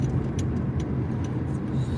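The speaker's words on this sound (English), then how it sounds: "Just traffic on the damn street." Steady street traffic with cars rolling past, a continuous low rumble of engines and tyres at moderate distance, with no voices over it.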